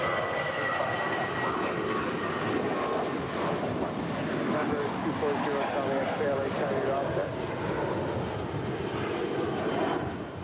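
An ANA heavy jet departing LAX for Tokyo Narita: a steady, loud, broadband engine roar that holds for the whole stretch, with wind rumble against the microphone.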